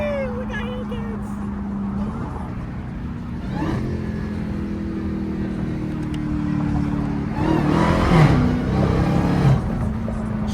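Dodge Hellcat muscle cars move through traffic, their engines droning steadily, with a louder revving surge late on as one accelerates nearby. People talk over the engine noise.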